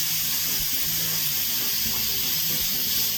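A pressure cooker of feijoada vents its steam in a steady, loud, unbroken hiss, a bright rushing spray of released pressure close by.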